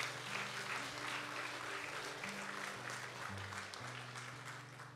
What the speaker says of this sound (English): Let's give a big round of applause for this beautiful morning together.